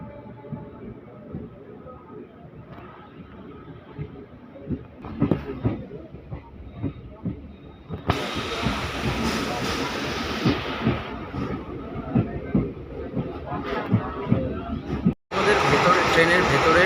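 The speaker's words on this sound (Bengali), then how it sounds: "দাঁড়ানোর পরে আমাদের ট্রেন ছেড়ে দিল ওল্ড মালদা জংশন স্টেশন থেকে।" A DEMU train pulling out of Old Malda Junction heard from inside, low rumbling engine and wheel noise that grows louder and broader as it gets underway, with voices talking over it.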